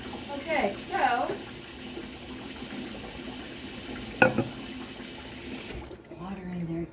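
Water splashes into a pet's dish, with short bursts of pouring and clinking near the start and a sharp knock midway, all over a quiet household background, with a voice briefly near the end.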